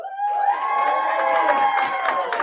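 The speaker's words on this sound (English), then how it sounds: "We got a crowd. They're fired up." A crowd at a virtual gala event cheers and whoops in one short, loud, continuous burst of voices.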